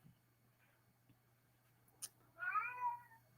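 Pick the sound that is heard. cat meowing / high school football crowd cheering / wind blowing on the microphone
cat meowing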